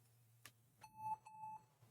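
A Lenovo ThinkPad X1 Carbon third generation with a black screen gives short electronic POST error beeps, two or three clear tones in quick succession after a couple of clicks.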